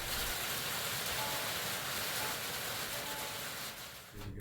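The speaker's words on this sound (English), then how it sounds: "The loud pop sounds are rain falling from the oak tree over the shop" Rain drips from an oak tree onto a shop roof after a storm, giving a dense, continuous hiss of patter with occasional louder pops, steady and fairly loud before easing slightly at the end.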